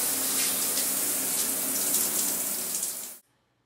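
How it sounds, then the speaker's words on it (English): Shower hose with a diverter spraying water during bathroom cleaning: a loud, steady hiss of spray that runs for about three seconds, then cuts off abruptly into near silence. "now we could come and spray this whole thing off."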